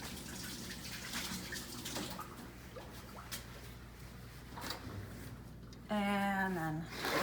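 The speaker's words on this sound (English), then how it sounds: "And so I'll just wash my hands." Tap water runs steadily in a home kitchen while hands are washed, a soft continuous patter under the room's hum, ending with a louder, tonal burst of flow near the close.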